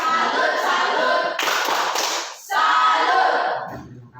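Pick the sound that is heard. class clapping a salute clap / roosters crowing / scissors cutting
class clapping a salute clap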